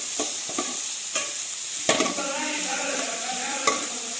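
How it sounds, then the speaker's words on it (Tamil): Mudakathan greens are sautéed with cumin and garlic in a pan, a soft sizzle under repeated scraping stirs and a few clinks of the spoon, close and steady with no voices. "இப்போ இது நல்லா வதங்கினோன்னா அதில் இந்த முடக்கத்தான் கீரையும் சேர்த்து நல்லா வதக்கணும்"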